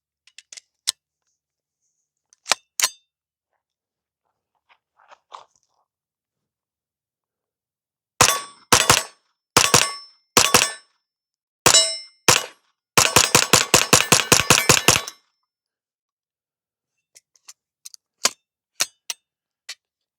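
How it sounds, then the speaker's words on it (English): An AR-9 pistol-caliber carbine converted to roller-delayed operation fires a few sharp double shots, then rapid bursts that empty the magazine, each report crisp and close, with quiet gaps between groups. "I'm going to fire a couple doubles, and then I'm just going to empty the rest of the mag."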